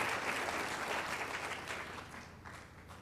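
A church congregation claps together in a sustained burst of applause that gradually thins and softens toward the end.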